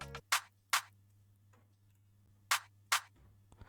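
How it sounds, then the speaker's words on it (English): A layered clap and rim shot drum sample in an Afrobeat beat hits four times in two pairs, each a crisp snapping crack, against a soft low hum with faint clicks between. "because I layered the clap and a rim shot"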